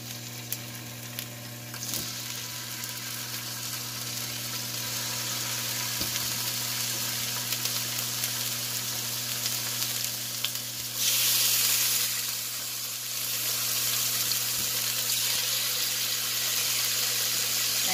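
Pork steak sizzles in a little oil in a non-stick pan, a steady close crackle and hiss with a constant low hum beneath, swelling briefly louder midway.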